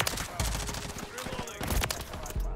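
Fully automatic Lachmann Shroud fire in a video game, rapid bursts of gunshots crackling close and loud, broken by short gaps, with game effects and chatter mixed in.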